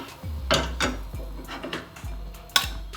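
A plate is set down with a few clinking, knocking ceramic contacts in a home kitchen while wheat ada is being made, the sharp taps near and close together over a faint background.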